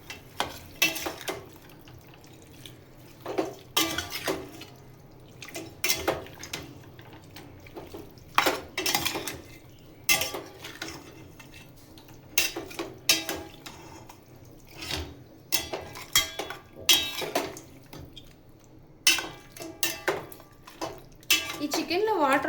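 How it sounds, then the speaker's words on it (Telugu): Chicken seasoned with salt and turmeric being stirred in a pan, a spoon scraping and clinking against the metal in irregular bursts, with sizzling in between and a voice talking throughout. "ఇప్పుడు ఉప్పు పసుపు వేసుకున్న తర్వాత మనం తిప్పాలి"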